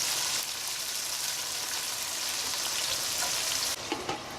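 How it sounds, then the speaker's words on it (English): Chopped tomatoes frying in a pot for squid ink seafood pasta, a steady dense sizzle filling the whole clip, close and fairly loud, easing slightly near the end with a few softer stirring clicks. "Fry the tomatoes for 2 minutes."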